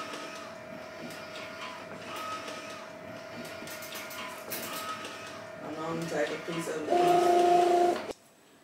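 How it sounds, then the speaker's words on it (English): A sublimation printer whirs and hums steadily while printing an image, ending in a louder mechanical buzz before cutting off, with a voice speaking over it. "So here's our image coming out of the printer."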